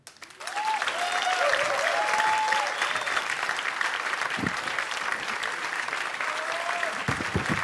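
Audience applause greets the first guest at the Anděl music awards, a dense sustained clapping that rises quickly and holds steady and loud throughout, with occasional whistles and cheers above it.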